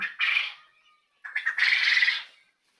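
Quail of various ages kept on husk bedding at a quail farm give two loud, close, harsh squawking calls, a short one and then a longer burst after a brief pause, with no voices.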